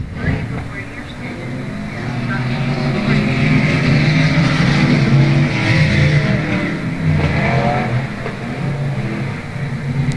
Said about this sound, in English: Walker looking to the bottom here in the second heat race for the Emods.